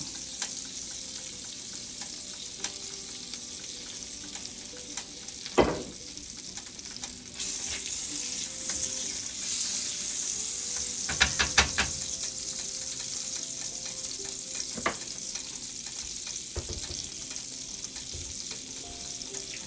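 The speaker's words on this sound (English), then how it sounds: "Just let my butter melt. And then I'm gonna put in just a little bit of olive oil." Butter and olive oil sizzle steadily in a skillet for asparagus, a continuous bright frying hiss with occasional louder crackles and stirring clatter, close and without any talk.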